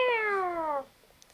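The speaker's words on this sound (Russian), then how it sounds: "Без этих кошачьих мурлыканий" A cartoon cat gives a single long, clear meow that slides downward in pitch and cuts off, leaving near silence with a few faint clicks.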